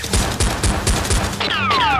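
Rapid toy-gun fire in a Nerf war video game: a quick run of sharp, loud shots in a steady rhythm, followed by descending whistling tones near the end.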